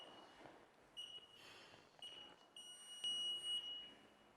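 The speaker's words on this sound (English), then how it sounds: "This is the alarm." Tire inflation machine alarm sounding in a repeated series of shrill, high electronic beeps, some short and some held, quiet and fairly near against a faint room background.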